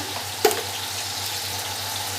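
Water hits hot oil in a cooking pan while making a sour small-fish curry, giving a steady sizzling hiss with one sharp pop near the start.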